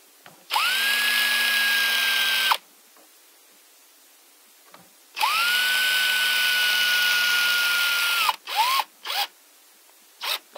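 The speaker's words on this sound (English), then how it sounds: "I'm going to line that up on the carry handle and screw them all the way in." A power driver drives screws into the resin carry handle of a Spulse rifle prop. Two steady whirring runs of about two seconds each are followed by several short, quick bursts as the screws are snugged in.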